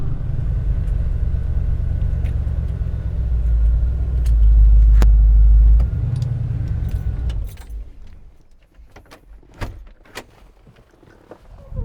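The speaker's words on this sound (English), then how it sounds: "Probably hard to hear me over that motor anyway." A twin-turbo Nelson Racing engine in a 1970 Chevrolet Suburban idles with a deep, loud, close rumble that swells and then cuts off, followed by quieter clicks and jangling key sounds.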